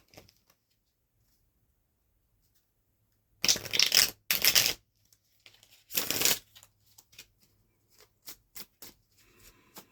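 Tarot cards are shuffled and drawn in a quiet room: a few loud riffling bursts in the first half, then sparse soft snaps and taps as single cards are pulled and laid down.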